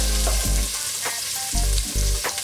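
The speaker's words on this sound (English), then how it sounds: "Now this is on a low fire, so we're just gonna stir that around for a while." Vegetables for a Moroccan tagine stirred in a pan over a low fire, giving a steady soft sizzle broken by a few scraping stirs, with no voices.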